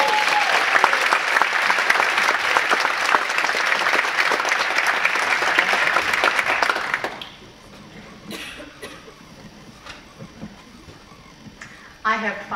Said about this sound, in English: Let's have a big round of applause for Diane Feldt.